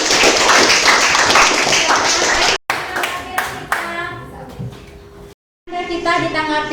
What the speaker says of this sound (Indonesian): tepuk tangan dulu untuk Novi